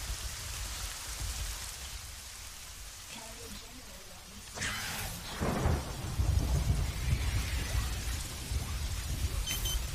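Steady rain pours in a video game storm, with a loud rolling thunderclap breaking through midway and rumbling on over the downpour; a faint beep sounds near the end.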